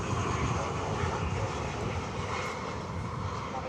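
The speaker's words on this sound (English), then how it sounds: "There goes that Delta flight." Delta Airbus A319 jet departing from DFW Airport, a steady loud engine roar at a distance that holds nearly constant throughout with a faint slow fade, no talk.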